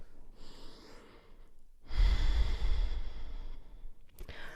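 A long, deep breath during a yoga session, a soft airy inhale followed by a fuller, louder exhale that swells and slowly fades, close and alone with no talking.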